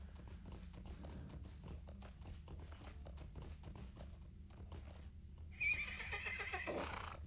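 A horse in the game Lord of the Rings Online clip-clops at a steady walk, then lets out a loud, close whinny near the end over a quiet ambient game background.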